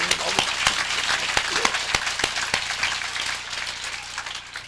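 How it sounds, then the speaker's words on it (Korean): A church congregation at a Sunday evening service claps, the sound landing as sharp, widely spaced strikes over a murmuring crowd and easing off toward the end. "요강박수 한번 쳐요"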